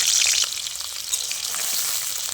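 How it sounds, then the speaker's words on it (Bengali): Pointed gourd (potol) slices fry in hot white oil in a kadai, giving a loud, continuous close-up sizzle with crackling bubbles throughout. "তেলটা গরম হয়ে গেছে, এবার পটলগুলো দিয়ে দেবো।"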